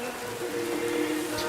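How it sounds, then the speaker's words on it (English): Steady rain falls in the medieval game Kingdom Come Deliverance 2, a soft, even patter with a low background hum, continuous and moderately quiet throughout. "It's raining, that's good."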